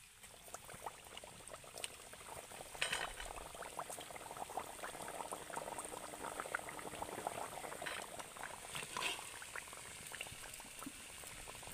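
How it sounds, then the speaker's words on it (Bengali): Nimki pastries deep-frying in a batch of oil, a faint, dense bubbling crackle that runs steadily throughout with scattered small pops. "একইভাবে বাকি নিমকিগুলোকেও ভেজে নেব।"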